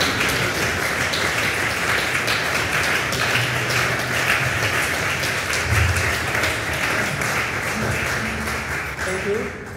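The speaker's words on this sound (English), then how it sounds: "It's very warm, your applause." A concert audience claps steadily in warm, sustained applause after an oud performance, a dense even wash of many hands filling the hall without a break.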